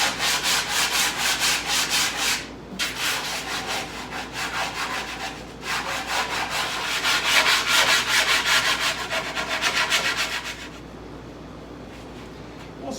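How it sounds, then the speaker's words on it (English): Light hand sanding takes the edges off wooden sideboard panels in steady back-and-forth rubbing strokes, close and fairly loud, with two short pauses before the rubbing fades at the end. "Just going to give them that little light sand again just to make it a little bit easier to fit in."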